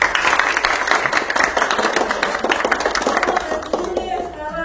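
Students clap their hands together at a school library visit, a dense burst of close applause that thins toward the end, with a voice faintly in the background.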